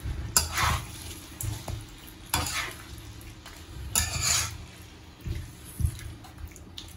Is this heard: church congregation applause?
no